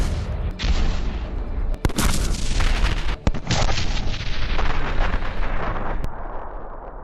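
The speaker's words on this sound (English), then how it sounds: "A few shots from a high-precision gun can quickly eliminate the target and escape." M1 Abrams tank gun firing in a combat zone: several heavy booming shots in quick succession, loud and close, each followed by a rumbling roar that fills the whole stretch without any talk.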